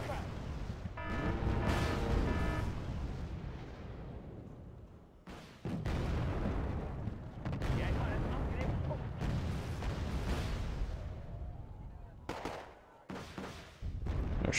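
Gunfire and artillery in the video game Wargame AirLand Battle: heavy booming blasts and bursts of shooting arrive in clustered volleys with brief gaps, loud and low, and a voice talks over part of it.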